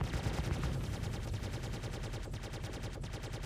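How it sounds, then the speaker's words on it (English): Rapid automatic gunfire in a video game firefight, a dense, loud, continuous stream of shots fired at another player. "Keep shooting. Focus. Straight at him."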